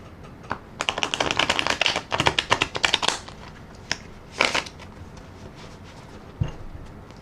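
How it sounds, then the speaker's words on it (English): A deck of tarot cards is riffled and shuffled up close in a series of quick crisp ripples and snaps, with short pauses between bursts. "Another rifle and shuffle."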